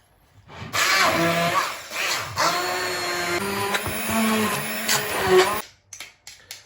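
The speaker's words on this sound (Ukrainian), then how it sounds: "Тепер це все діло треба взяти наш міксер-блендер і переблендерить." A mixer-blender purées herring for forshmak, a loud, steady motor whir lasting about five seconds with slight pitch shifts as the load changes, then stopping abruptly with a few clatters.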